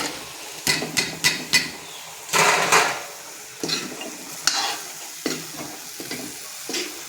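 Carrots being stirred and fried in a pan at home, heard as a run of sharp scraping and clinking stir strokes over a steady sizzle, close and fairly loud with short pauses between strokes.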